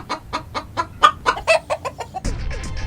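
A voice imitates a hen, with a run of about a dozen rhythmic clucks, then a burst of louder, rougher noise at the end.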